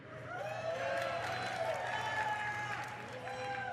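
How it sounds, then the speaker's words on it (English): BlizzCon convention audience cheering, a large crowd roaring with whoops and shouts that swell and hold steady, heard from a distance in a big hall. "Please cheer if you want to see Absolution in the Arena."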